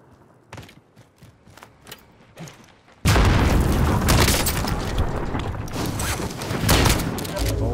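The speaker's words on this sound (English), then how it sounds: "he almost just RPG'd me to death" An RPG explosion in Call of Duty Warzone booms suddenly and loudly after a few quieter clicks and thumps, followed by a sustained rumbling roar of debris and blast noise.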